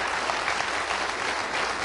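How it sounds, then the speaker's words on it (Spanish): A church congregation claps together after being urged to applaud God during a Spanish-language sermon, producing a dense, steady wash of many hands that holds throughout, with no voices rising above it. "Dale fuerte ese aplauso al Dios de la gloria"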